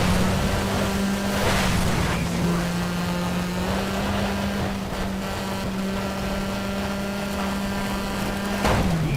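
Rally car splashing through water in the Sega Rally racing game, a loud continuous rush of spray over a steady humming engine drone.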